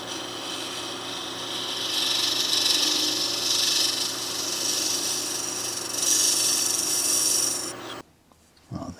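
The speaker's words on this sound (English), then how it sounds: "I'm just going to run a scraper through that." A hand scraper drawn steadily across the surface of a wooden box built from scrap wood gives a continuous, close rasping scrape for about eight seconds, then stops abruptly, leaving near silence and a few faint knocks.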